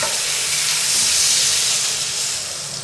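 Water poured into a pan of frying eggplant and tomato for an egg curry bursts into a loud, steady steamy sizzle that fades slightly toward the end.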